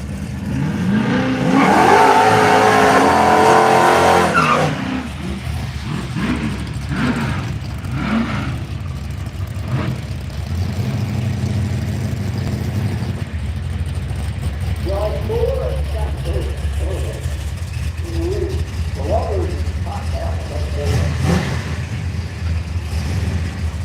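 A street machine drag car engine at a drag challenge event, loud revving bursts up front then a steady rumbling idle with further throttle blips, voices talking throughout.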